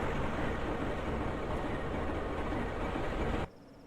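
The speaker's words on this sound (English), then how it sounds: "this train is on the way" A steady, loud rumbling roar of a moving PRR Alco RS-11 train in a video game, broadband and constant, cutting off abruptly near the end to a quiet hiss.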